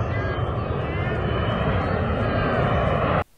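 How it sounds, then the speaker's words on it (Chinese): A Chengdu J-36 military aircraft landing with its gear down, a loud, steady roar of engines at close range that cuts off abruptly near the end, with voices underneath. "视频中，歼36的3个起落架全部打开，明显是一个正在降落的过程。"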